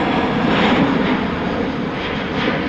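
Jet engines of a United Boeing 777 airliner at Dublin Airport roar loudly and steadily throughout, a broad continuous rumble with no talk over it.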